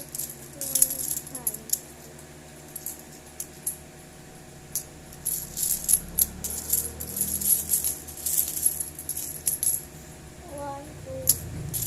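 Coins clink and jangle as 20-peso pieces drop into a piggy bank, in scattered bursts of metallic clatter that come close, with a voice speaking now and then between the drops.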